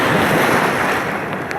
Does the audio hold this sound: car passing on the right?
no